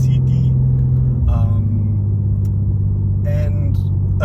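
A BMW M2 with its S58 engine drives along, a steady low droning rumble from the cabin that holds even as a voice talks over it.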